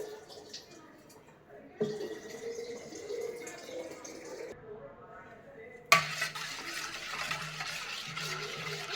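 Mosambi jelly mixture is stirred in a pot after agar is added, giving scraping and clinking of a spoon against metal with some watery swishing, interrupted by louder knocks, while a person talks nearby.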